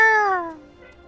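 A single drawn-out, descending cat meow from Final Fantasy XIV, clear and close, fading away within about a second.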